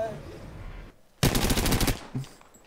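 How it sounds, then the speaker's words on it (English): Rapid automatic gunfire from an Apex Legends match bursts in loudly for about a second after a quieter stretch of game sound, followed by a short trailing shot. "Who's shooting?"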